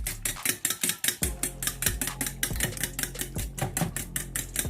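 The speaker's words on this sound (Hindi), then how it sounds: "ये देखिए मैंने इसमें 5 अंडे ऐड कर दिए हैं। अब हम इसको अच्छे से मिक्स करेंगे।" A fork or whisk rattles fast and steadily against a bowl while five eggs are beaten, a rapid, even clatter of close metallic taps with no one speaking.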